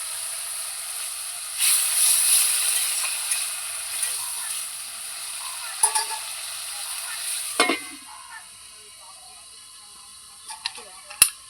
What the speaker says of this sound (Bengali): আলু ভাজাটা হতে থাক